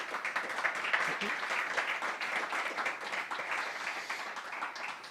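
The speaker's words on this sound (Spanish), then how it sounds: "Un aplauso, José Ramón." Audience applause welcoming José Ramón, sports lead at an NGO, at a charity event on sport and integration; a dense, even round of clapping, somewhat distant and soft, lasting throughout.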